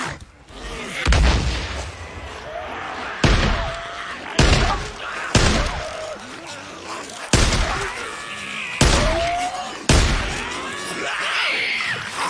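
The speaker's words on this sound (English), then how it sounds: "Flash bang." Flash bang grenades and gunfire in the video game Days Gone, a rapid series of sharp loud booms and bangs in an irregular rhythm, some with ringing tails, alone without talk.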